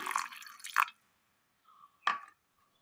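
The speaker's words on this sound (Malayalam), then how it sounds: "ഇതൊന്ന് അരച്ചെടുക്കുവാൻ ആവശ്യമായ വെള്ളം ഒഴിച്ചു കൊടുക്കുക." Short bursts of water splashing and pouring into a curry mixture for grinding, with small drips in between and quiet pauses, close by with no talking.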